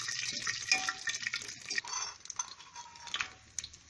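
Bay leaf, red chili and black pepper fry in a pan, giving a soft, steady sizzle with scattered clinks and scrapes of a spoon stirring against the metal.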